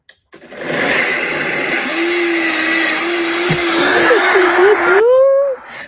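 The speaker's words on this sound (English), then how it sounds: "A blender roars and suddenly stops" A loud blender whirs steadily for several seconds, its motor pitch wobbling and rising before it abruptly cuts off.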